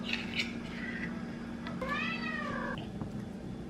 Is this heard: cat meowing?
yes